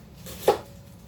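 A single short knife stroke through an onion on a cutting board, close and soft, against a quiet room hum with no speech.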